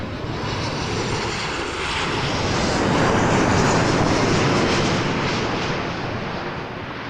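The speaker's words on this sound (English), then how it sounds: "WestJet 714, 737-800 coming in" A WestJet Boeing 737-800 coming in to land at Toronto Pearson at night, engines roaring loud and close, building to a peak mid-pass and then easing off, with no voices over it.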